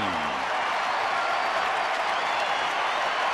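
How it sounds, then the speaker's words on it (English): A baseball stadium crowd at a Cubs–Dodgers game roars in a steady, dense ovation of applause and cheering that holds loud throughout. "you could see him, a big sigh as he gets an ovation from the crowd"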